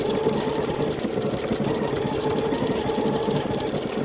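A Bernina Chicago 7 embroidery machine stitches at four times normal speed, giving a dense, continuous rapid mechanical chatter that stays steady and close throughout.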